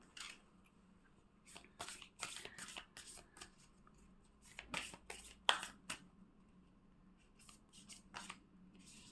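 Tarot cards are shuffled and drawn in a quiet room, with soft, crisp flicks and slides in scattered clusters, faint and close, over a low steady hum.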